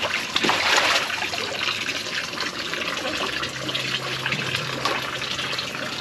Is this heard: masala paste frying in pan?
no